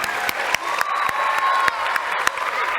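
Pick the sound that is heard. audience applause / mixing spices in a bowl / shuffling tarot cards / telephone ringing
audience applause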